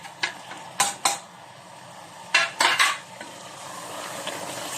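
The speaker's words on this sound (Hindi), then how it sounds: "ये मैं इसमें डाल दूँगी और साथ साथ भूनती जाऊँगी इसको।" Several sharp metallic clinks and scrapes of a spoon against a pot, in uneven bursts, over a faint steady sizzle of spices frying for aloo gosht.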